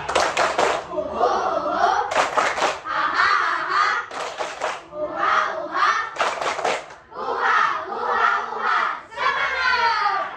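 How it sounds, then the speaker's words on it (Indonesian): Standing schoolchildren perform a rhythmic spirit clap chant in unison, sharp clap bursts alternating with loud shouted chanted phrases in a repeating pattern, close and energetic. "Kita mulai dengan tepuk semangat Buha dan anak-anak berdiri semuanya."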